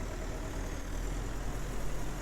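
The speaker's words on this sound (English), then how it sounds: "I love this tractor, the FV tractor." FV tractor engine idling in the farming game Farmer's Dynasty, a steady low rumble held at an even level throughout, with no voices.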